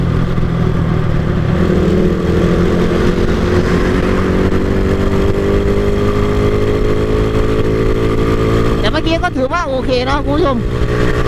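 Motorcycle with stock valves and 15/35 sprockets accelerating through the gears, a steady loud engine drone rising in pitch, with a brief higher whine near the end and a rider talking over it.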